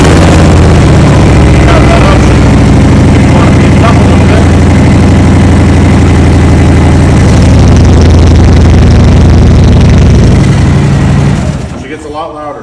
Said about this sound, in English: This bike here also has a very unique set of exhaust. It is called Dr Jekill Mr Hyde, and it runs a baffle in here with sound control.